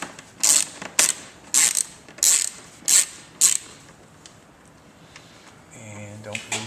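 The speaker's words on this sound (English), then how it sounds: "take this fan shroud off, which is held on by these 2 hex screws right here" Ratchet clicks through two hex screws holding the fan shroud on a 2002 Ski-Doo Grand Touring 380F snowmobile, six crisp bursts of rapid clicking in even rhythm up close, followed by a brief voice.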